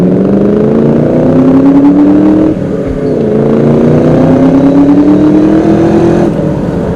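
A 2003 Ford SVT Cobra engine pulls hard under load, a loud rising drone of revs climbing steadily, dropping briefly at a shift, then climbing again, heard from inside the car.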